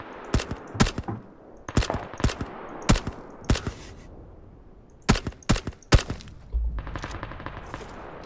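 Suppressed 9 mm gunfire in the battle game PUBG: a string of sharp, spaced single shots in short bursts of two or three, fairly loud and dry against a quiet background, with a brief low thump near the end.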